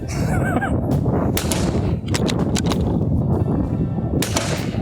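Sharp, close gunshots from an 80-year-old CZ Brno .22 military surplus rifle at an outdoor range, several cracks fired in quick succession with brief gaps, each a loud crisp report.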